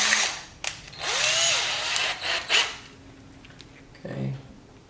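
A power drill with a 5/16 bit whines in short bursts while drilling for a front splitter on a C8 Corvette, starting and stopping a few times at close range, with a brief low thump near the end.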